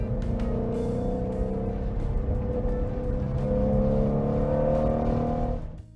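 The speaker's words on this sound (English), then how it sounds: "delivers track-ready performance with a distinctive exhaust note that can't be mistaken for anything else" A V8 sports car engine drones steadily with a throaty exhaust tone, swelling slightly louder before cutting off abruptly at the end.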